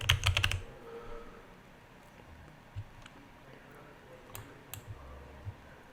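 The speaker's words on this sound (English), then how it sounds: "If I type in Belgrade" Someone enters a city name on a computer keyboard, starting with a quick burst of clicking keystrokes followed by scattered, quieter key taps.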